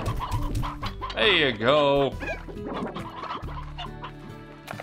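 Stony hens from the video game Slime Rancher cluck and squawk in a busy flurry of overlapping fowl calls. A brief spoken remark comes over a soft musical backdrop.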